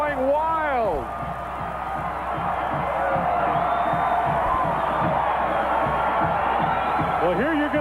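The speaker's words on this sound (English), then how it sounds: "This crowd is going wild." Loud stadium crowd at the Causeway Classic college football game cheering and roaring wildly after a Sacramento State Hornets touchdown in 1985, with whoops and shouts, a sustained wall of noise with an announcer's voice over it.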